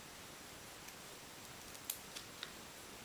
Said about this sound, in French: On découpe ainsi soigneusement toutes les pièces du puzzle.